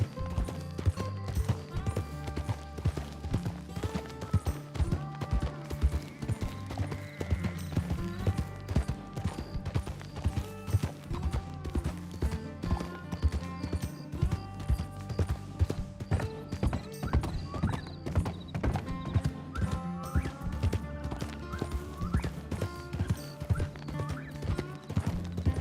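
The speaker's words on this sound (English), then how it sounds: "I could hear that horse going" Horse hooves clip-clop in a steady, continuous rhythm with whinnying in a video game, loud and close for the whole stretch, with no talk over them.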